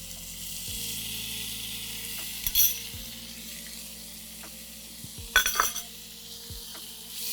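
Chicken pieces, bone-in or boneless, tipped into a hot pot and stirred for chicken soup, giving a steady sizzle with a few clattering spoon-and-pot knocks near the start, middle and end; no talking.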